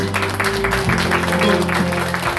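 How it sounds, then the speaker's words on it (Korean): A church congregation claps together at an anniversary thanksgiving service, a steady broadband patter over a sustained musical tone, fairly loud throughout. "우리 한번 박수 좀 보내드리겠습니다"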